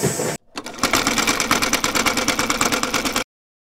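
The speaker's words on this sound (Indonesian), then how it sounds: "saya di sini pakai printer Canon G2010 guys langsung kita eksekusi print" A Canon G2010 inkjet printer prints a page with a loud, rhythmic mechanical clatter and whir that starts abruptly, runs steadily for about three seconds, then stops dead.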